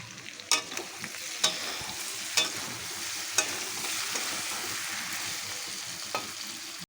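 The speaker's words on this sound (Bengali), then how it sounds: "দিলাম টমেটো টমেটোটি একটু কষিয়ে নেব" Tomatoes sizzle steadily in a hot pan for a chicken kosha, with a sharp spatula scrape or clink every second or so over a continuous close frying hiss and no talking.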